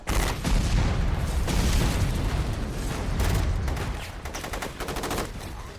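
Heavy gunfire and explosions from the Resident Evil 2 video game roar in a dense, continuous barrage of loud shots and booms, with rapid automatic bursts near the end.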